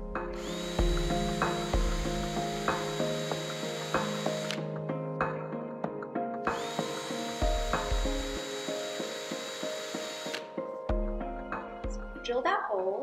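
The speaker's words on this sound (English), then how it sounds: "So drill that hole" A power drill whirs steadily in two long runs with a short pause between, loud and close, with a voice talking over it.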